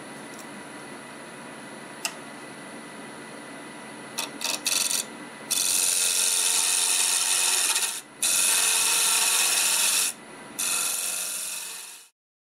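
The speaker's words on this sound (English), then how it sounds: "So now we'll work on this end. Use the spindle gouge." Wood being turned on a lathe at about 1300 RPM with a spindle gouge, shaping an inside-out ornament: a steady close hum and whir, then loud bright scraping cuts in several bursts with short pauses between.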